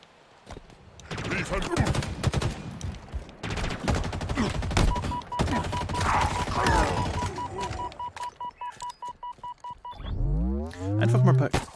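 Rapid bursts of gunfire and heavy blasts in Halo Infinite crash together, loud and chaotic, ending with a deep booming rumble of an explosion.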